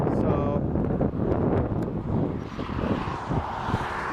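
Jet engines of a KLM airliner roar steadily at an airport, a broad whooshing rumble with wind buffeting the microphone and a faint voice at the start.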